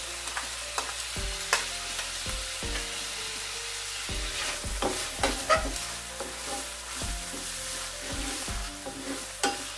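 Ginger garlic paste fries with tomato and green chili in a pan, giving a constant sizzle broken by repeated scraping stirs and low clunks of a spoon against the pan, close and moderately loud.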